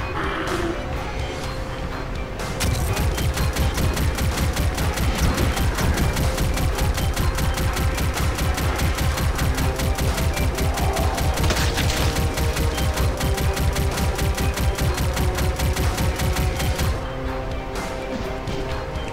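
Enemy gunfire rattles through the Filtration Compound level of GZDoom. A loud, rapid, machine-gun-like stream of shots runs almost unbroken for about fifteen seconds, with only quieter game noise before and after.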